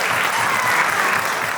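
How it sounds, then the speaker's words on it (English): A crowd at a fundraiser applauds in a dense, steady burst of clapping that fills the whole moment, with no one speaking. "give yourselves a round of applause"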